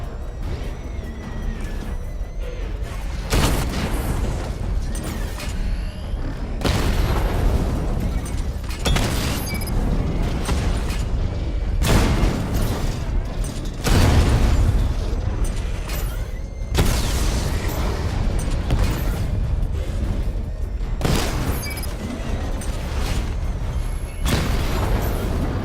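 Missile barrage explosions from the Batman: Arkham Knight game, a series of loud booming blasts in bursts roughly every few seconds, each followed by rumbling debris and mechanical whirring, with no talking.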